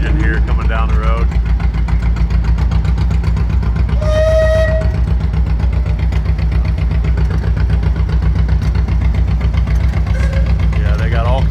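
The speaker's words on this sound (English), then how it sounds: "It's a big old case steam road engine here coming down the road." An old Case steam road engine rolls down the road at a threshers' show, a steady low chugging rumble held throughout, with a whistle-like tone near four seconds and people talking nearby.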